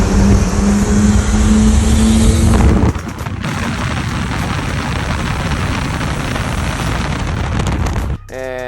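A Nissan Cefiro A31 with modified exhaust piping revs loudly up close, a raspy, rough roar that drops in pitch, holds a sustained drone, then cuts off abruptly near the end.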